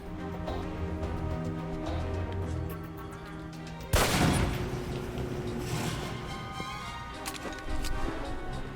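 Pistol fire during Alpha Protocol training, heard as a sharp loud crack about midway that rings out over a steady bed of game ambience and music, with a further impact near the end.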